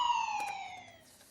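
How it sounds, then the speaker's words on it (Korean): A siren sound effect gives a short, loud electronic wail that glides downward and fades within about a second, with no talk over it. "사이렌이 울렸네요"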